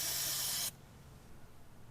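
A steady spray of aerosol engine cleaner hisses loudly for well under a second, then cuts off abruptly, leaving quiet room tone.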